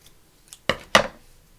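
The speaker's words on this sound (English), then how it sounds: "So let's just cut a couple of pieces off." Two crisp scissor snips cutting pieces of lace, close and fairly loud, spaced a quarter second apart after a faint earlier click, with quiet room air around them.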